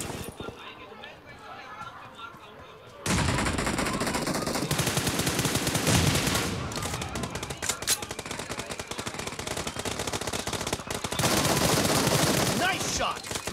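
Gunfire in the mobile battle game PUBG Mobile: quiet at first, then rapid automatic bursts and repeated shots erupt and continue loudly in dense volleys.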